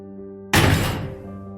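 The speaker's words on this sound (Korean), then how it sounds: "어느 집의 대문이 벽에 부딪혀 시끄러운 소리를 내며 활짝 열렸다" A single loud bang of a gate flung open against a wall, ringing out briefly and then fading over a low background hum.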